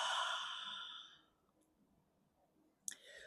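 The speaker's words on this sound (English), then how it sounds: "and breathe it out" A strong, close exhale during a yoga flow, breathy and fading over about a second into quiet room tone, followed by a small click and a short soft breath near the end.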